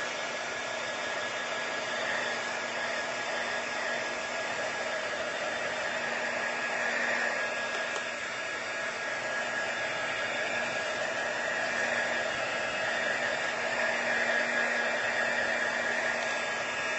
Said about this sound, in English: I'm going to use my heat tool for a second.